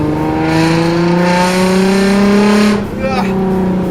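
Toyota Mark X fitted with a one-off custom muffler and lowered suspension, driving on a sandy lot with a loud steady engine drone and rising revs, then a brief dip as it shifts, with people talking over it.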